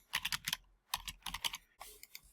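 Typing text on a computer keyboard in close, crisp clicks grouped in short bursts with small pauses between, the keys near and distinct, no speech.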